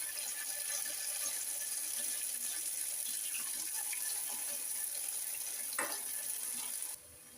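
Unniyappam batter frying in hot oil filling a pan about three-quarters deep, a steady, dense sizzle that carries on evenly for most of the clip with one brief louder crackle near the end before it drops.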